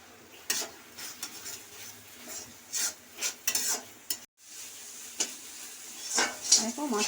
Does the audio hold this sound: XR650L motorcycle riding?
no